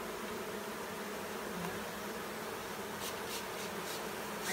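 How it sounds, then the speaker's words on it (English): A honeybee swarm fans its wings as it marches into a Slovenian AŽ hive, giving a steady, close buzzing hum with faint rustling throughout. "See them fanning as they're marching in right here."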